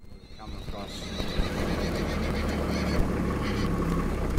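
Horses near a country road by Sheffield, Tasmania whinny loudly over a steady rumbling background, with a voice talking briefly at the start.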